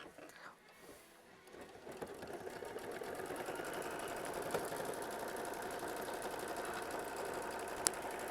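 A sewing machine stitches raw fabric edges together for a quilt block, its fast even needle rattle starting quietly and then running steady and close for most of the stretch.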